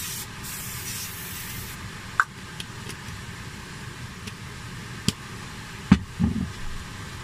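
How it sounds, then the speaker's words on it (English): A short hissing burst of cooking spray coats a frying pan for beef ribs, followed by faint background hum and a few light clicks and knocks. "I'm actually going to just spray the pan"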